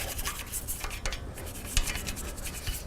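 A toothbrush scrubs the flat pad-rest area of a brake caliper bracket on a G37 Sport / 370Z during a front brake pad job, giving steady rapid bristle rasping with a few sharper scrapes.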